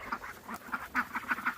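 Ducks kept with chickens quack in a quick run of about eight loud, nasal calls, close by with no talking over them.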